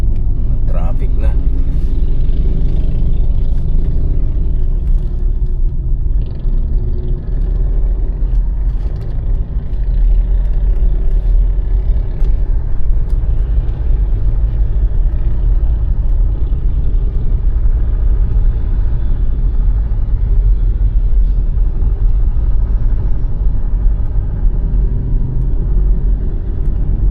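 Road traffic rumbles steadily from inside a moving car in Rizal, near Manila, a loud continuous low drone of engine and tyre noise lasting throughout, with people talking over it now and then.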